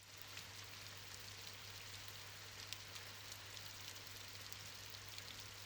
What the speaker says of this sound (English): the forecasted storm turned to be just a calm, relaxing rain